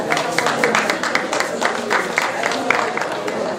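Steady applause from an audience at a women's cancer walk ceremony, continuous dense clapping throughout, moderately loud, with voices under it.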